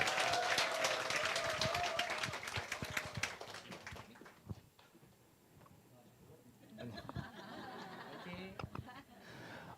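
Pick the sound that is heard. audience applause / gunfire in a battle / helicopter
audience applause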